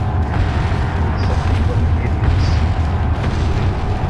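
A grenade blast in Resident Evil 4, heard as a loud, sustained low rumble that fills the whole stretch, with a voice speaking faintly beneath it.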